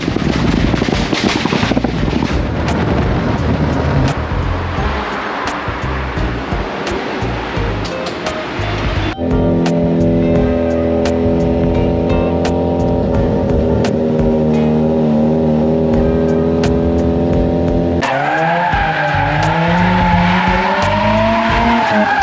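A Mazda RX-7 or RX-8 drifts with sustained tire skidding and squeal over a loud, continuous engine roar that climbs and falls in pitch across several sweeping passes, close and steady with no voices.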